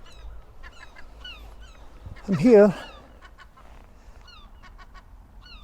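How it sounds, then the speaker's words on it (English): Seagulls call during summer nesting season, with one loud, harsh squawking burst midway that stands out above a faint background of chirps, while someone talks nearby. "Maybe it's, I think it could be seagull mating time when they've got their eggs and stuff."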